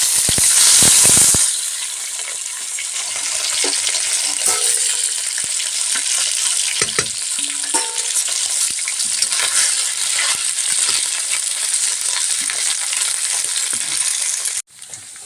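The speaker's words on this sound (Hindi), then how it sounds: "बहुत ज़्यादा एकदम आँच ज़्यादा हो गया तो पूरी तरह से चटचटा रहा है।" Small whole fish frying hard in a very hot pan, a dense steady crackle and spatter filling the whole clip, loud and close, with a few clinks of a utensil and a sharp cut-off near the end.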